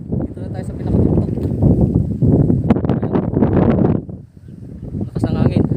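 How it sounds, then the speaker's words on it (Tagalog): Strong wind buffets the microphone on a hilltop summit in Caranglaan, Pangasinan, a steady broadband roar that surges and dips, with people talking in the middle. "Lakas ng hangin."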